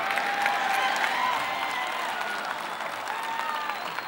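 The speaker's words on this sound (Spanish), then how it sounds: "Gracias por esos aplausos." Open-air festival crowd applauding a performer at Festival Litoral, a dense, steady wash of clapping heard from a distance with faint cheers and murmurs mixed in.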